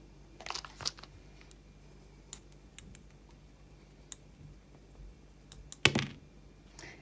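Small wooden dice made from pieces of a broken charm clatter and tick in scattered light clicks, with one louder cluster of rattling impacts near the end, close and fairly quiet.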